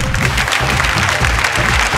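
A Bhojpuri singing contest show audience breaks into steady, dense applause, a close wash of clapping without a break.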